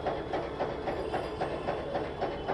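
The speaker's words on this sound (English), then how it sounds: "One of the interesting things about the heritage of trams is the sound it makes when it moves on the track along the road" A Kolkata tram rolls along its street track during a heritage parade, with a steady, rhythmic clickety-clack of wheels over rail joints and a continuous rumble, heard fairly close.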